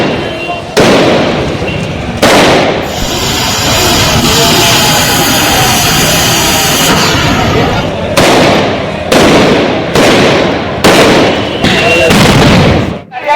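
During riot control, a rapid series of sharp, loud bangs and bursts bursts out amid a noisy, chaotic crowd, with repeated blasts clustering toward the end.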